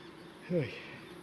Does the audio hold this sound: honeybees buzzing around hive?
yes